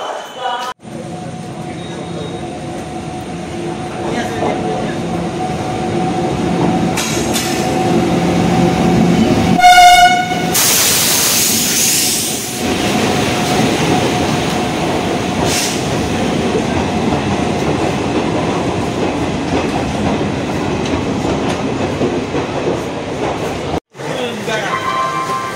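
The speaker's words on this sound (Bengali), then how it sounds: "মালদা টাউন থেকে এই 13064 বালুরঘাট হাওড়া এক্সপ্রেস এই ট্রেনে করে আমি আজকে যাব হাওড়া পর্যন্ত" The Balurghat–Howrah Express 13064 rumbles along at close range with steady wheel and carriage noise, and a loud horn blast sounds midway through; a voice talks over the running train.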